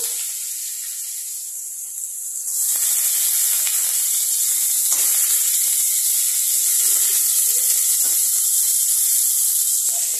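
Winter vegetables, potato, eggplant, onion and cauliflower, hit a hot pan seasoned with black cumin and burst into a loud, steady sizzle that holds evenly after a quieter start, with no talking.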